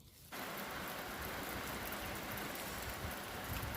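After a quiet first moment, steady rain starts and keeps up a close, even hiss, with no talking.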